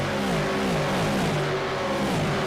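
A V8 Supercar in a sim racing game accelerates hard at the Zandvoort circuit, its engine note rising steadily through the revs as a loud, close, continuous roar that carries straight through the stretch.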